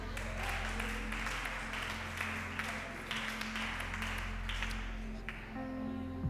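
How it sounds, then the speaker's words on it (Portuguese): A church congregation applauds after a sermon, with a steady wash of clapping that is moderately loud and sustained over a low hum throughout. "Uma salva de palmas."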